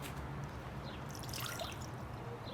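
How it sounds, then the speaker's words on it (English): Room temperature water pours into a mixing bowl for a slime recipe, a soft steady trickle and splash lasting a couple of seconds. "we're going to add room temperature water. We're going to add 1/2 cup to our mixing bowl."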